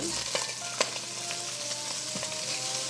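Yellow noodles frying in a wok for Hokkien mee give a soft, even sizzle with a few light clinks and stirring taps, heard close and fairly quiet with no voices.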